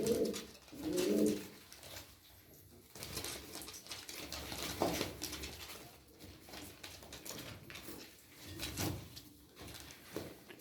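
Plain-footed Turkish tumbler pigeons from Çorum coo quietly, with low rolling calls rising and falling in several soft swells and no voices over them.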